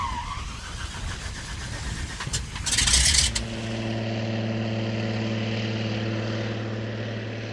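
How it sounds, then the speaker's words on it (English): A float plane's propeller engine drones in the Yukon wilderness, swelling into a loud burst before settling into a steady, even hum as it pulls away, with no voices. "The float plane has left me all alone"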